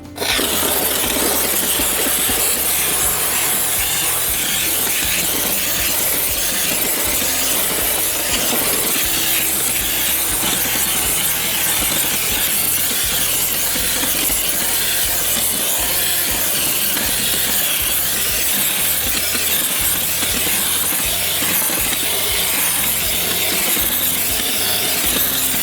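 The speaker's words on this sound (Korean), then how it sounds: "스팀건을 위에서 아래로 사선으로 간단하게 싸서 마무리를 해주면 되겠습니다" A steady, loud hiss of pressurized steam from a steam cleaner spraying an air conditioner, continuous for the whole stretch, with faint rubbing and clatter beneath it and no voices.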